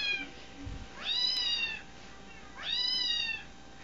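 A cat's meow played back from a phone speaker, two drawn-out rising-falling calls about a second and a half apart, fairly clear over a quiet room with a brief low bump before the first.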